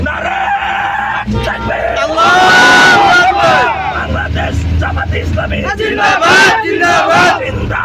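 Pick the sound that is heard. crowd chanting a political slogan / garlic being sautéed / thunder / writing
crowd chanting a political slogan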